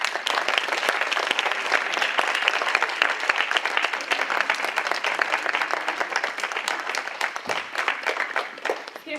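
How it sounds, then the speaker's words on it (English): A large audience at a women's transformation summit applauds steadily and loudly for the whole stretch, dense clapping from many hands that fades slightly near the end, with no speech over it. "Give her another round of applause."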